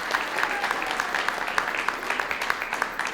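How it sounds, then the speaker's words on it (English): An audience at a panel discussion gives steady applause for a panellist, a dense continuous patter of many hands clapping throughout, with a faint voice mixed in. "Round of applause for Eliza."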